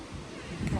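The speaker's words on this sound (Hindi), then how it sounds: "बहुत गंदी हवा चल रही है, मीन्स आ रहा है ज़ोर से झोंका, फिर बंद हो रहा है" Strong, gusty wind outside a house with doors and windows shut, a steady rushing roar that swells toward the end.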